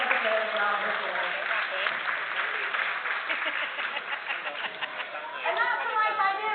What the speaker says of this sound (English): Please give Charlotte and our sacred ibis a round of applause round the floor.